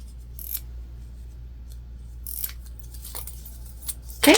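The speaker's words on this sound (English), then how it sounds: "I don't like to cut into zipper tape" Scissors snip into zipper tape while sewing a mini backpack, a few short, sharp, close cutting clicks spaced apart over quiet room tone.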